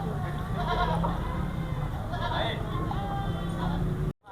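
A large six-month-old goat bleating among a busy livestock market in Taxila, loud and near, with crowd murmur, people talking and traffic rumble filling the background.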